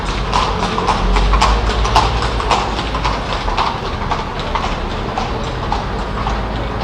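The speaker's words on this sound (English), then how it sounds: "There was a little carriage with real horses that passed by." A small horse-drawn carriage with real horses passes by outdoors, hooves clip-clopping in a loud, steady, evenly spaced rhythm with the rattle of wheels, heard alone.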